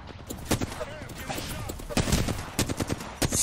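Gunfire in the Apex Legends video game rattles out in rapid, sharp bursts and single shots, fairly close, with faint voices in the background.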